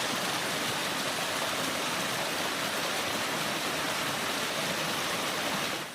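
Steady rushing water fills the whole stretch, a dense continuous wash of a nearby creek running over rocks on Paris Mountain's Sulphur Springs Trail, with no voices, easing slightly at the very end.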